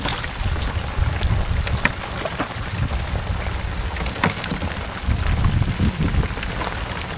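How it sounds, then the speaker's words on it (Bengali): Rain falling outdoors near water where shrimp are being caught, a steady dense patter with broad hiss and low rumble throughout, fairly loud and continuous, with occasional brief knocks and splashes. "বৃষ্টি আইব, বৃষ্টি।"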